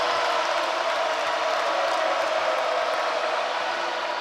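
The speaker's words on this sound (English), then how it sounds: "And here comes the crowd again." Crowd noise at a college basketball game between Alabama and Auburn, a steady loud roar of cheering voices filling the arena without break, as a player steps to the free-throw line.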